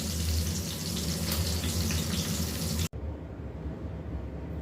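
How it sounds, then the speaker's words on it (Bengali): Coral fish fries in oil in a wok, giving a loud, continuous sizzling hiss that cuts off abruptly partway and resumes more quietly. "এখন এটা আস্তে আস্তে ভাজা হবে, ভাজা হলে আমি নামাই ফেলব।"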